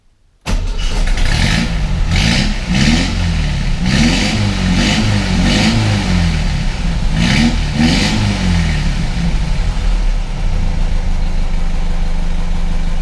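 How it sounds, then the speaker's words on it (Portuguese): A Volkswagen Beetle engine cranks and catches, revs up and down a few times, then settles into a steady, loud idle nearby. "vamos dar partida no motor para a gente ver aqui, sobretudo o conta-giros"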